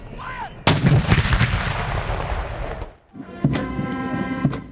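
A ceremonial artillery salute for Pakistan Day, fired in a provincial capital: a loud cannon boom that rolls and echoes for a couple of seconds, followed by a second blast with ringing reverberation.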